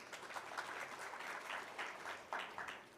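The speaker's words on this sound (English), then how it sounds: "a round of applause for the panelists here" An audience at a nature conservation panel applauds the panelists, a soft, distant patter of clapping that holds steady throughout.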